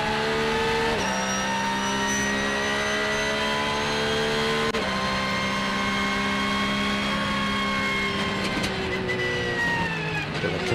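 GT race cars at Sonoma Raceway roar past in a sustained, loud engine wail with shifting pitch and gear changes, one car dominant and close, with no talk over it.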